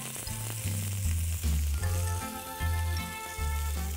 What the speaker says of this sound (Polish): Obsmażę mięso na złoty kolor z każdej strony.